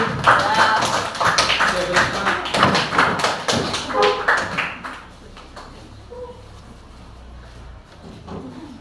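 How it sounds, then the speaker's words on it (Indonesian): A burst of scattered hand clapping from a classroom group, lively for several seconds and then fading out into quiet room noise. "tepuk tangan untuk kelompok 1"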